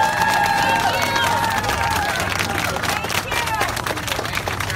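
Crowd applause at an outdoor activist rally after a slaughterhouse rescue, steady broadband clapping with cheering and crowd chatter mixed in, some whistling tones near the start, fairly loud throughout.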